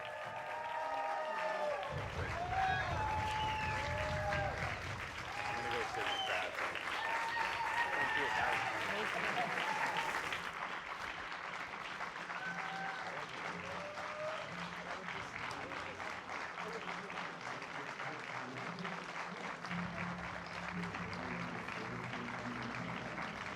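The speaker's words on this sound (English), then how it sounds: "They're all standing for you, clapping." A standing crowd applauds Nicole Shanahan at an event in Kittery, Maine, with loud, sustained clapping and cheering that fills the whole stretch, dense and continuous from start to finish.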